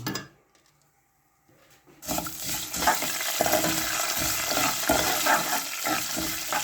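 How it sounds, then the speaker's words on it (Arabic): Vermicelli frying in a pan, starting near-silent with a faint rustle before a loud sizzling hiss erupts and continues steadily, with bursts of stirring and crackle up close. "حمرنا الشعرية زي ما انتم شايفين"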